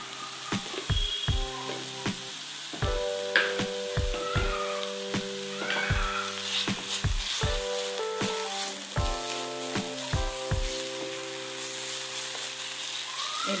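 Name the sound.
onions frying in a pan with salt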